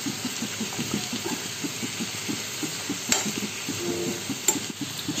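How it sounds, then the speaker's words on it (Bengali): Pumpkin curry ingredients with green chillies, mustard paste and roasted cumin being stirred together in a pan, a rhythmic scraping of a spatula repeating quickly over a soft steady sizzle, with a couple of sharp clicks. "এখন সবগুলো উপকরণ ভালোভাবে মিশিয়ে নেব।"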